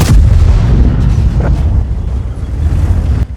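An open-topped tank's gun firing in World of Tanks, a loud heavy boom with a deep rumbling roar that rolls on and decays over several seconds, ending in a sudden cut.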